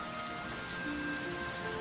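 Rain falling steadily in a scene from the film Four Weddings and a Funeral, a continuous even hiss with faint tonal music lines underneath and no speech.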